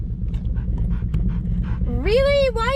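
A dog panting over a low rumble, then a rising, high-pitched whine near the end as it gets worked up by a passing motorcycle.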